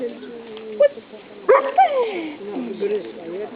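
A dog waiting to fetch whines and whimpers in short high-pitched bursts, several sliding yelps close to the microphone, with a person talking over it at moments.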